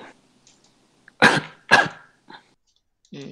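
Two sharp, loud coughs close by with a short pause between them, followed by a faint cough and a brief voice.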